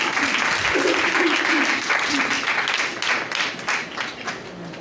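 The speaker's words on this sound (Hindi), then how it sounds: "दूर दी बरात के लिए जोरदार ताली है" A church congregation gives loud applause at a Punjabi-language Christian gathering, dense clapping that swells early, then thins and fades toward the end with some voices underneath.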